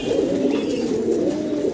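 A male Golden Sweet pigeon coos steadily and close by in a breeding pair kept on a farm, a low continuous warbling hum that carries on for the whole short stretch.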